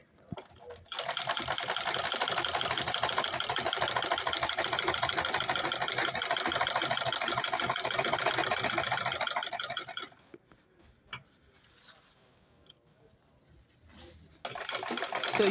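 A sewing machine top-stitching leather around a bag lining whirs in a fast, steady buzz for about nine seconds, stops, then starts again briefly, close and fairly loud.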